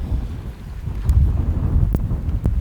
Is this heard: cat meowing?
no